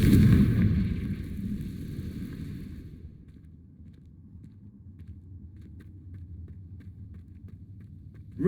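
Spell explosion from the Confringo curse in the video game Hogwarts Legacy, a loud booming burst at the start that decays into a low rumbling tail with faint crackles, alone without talk.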